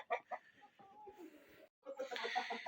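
Chickens cluck close by in a farmyard coop where newly hatched chicks are being fed, with a run of quick, choppy clucks, a brief silent gap, then a denser, steady burst of clucking.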